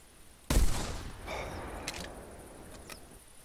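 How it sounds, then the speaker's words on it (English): A shotgun fired at a 20-meter target in the hunting game theHunter Classic: one sudden loud blast with a rolling decaying tail, followed by a couple of faint mechanical clicks. "Gonna fire at the 20 meter."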